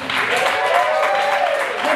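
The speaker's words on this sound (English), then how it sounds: "Keep that round of applause going for our stage kitten, Miss Candy Muldoon." Sustained audience clapping at a fire show in a St. Pete club, a dense even wash of applause with a few cheering voices riding on top.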